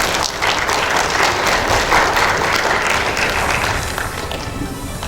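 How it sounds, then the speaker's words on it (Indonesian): Loud, dense applause from an audience at an education outreach event, many hands clapping at once close to the microphone, holding steady before easing slightly toward the end, with no voices on top. "Tepuk tangan semuanya."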